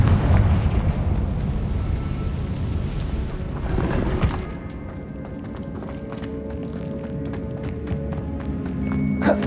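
A Bombarda blasting spell explodes in the game Hogwarts Legacy, a heavy rumbling roar that swells for several seconds and then gives way to scattered clattering debris.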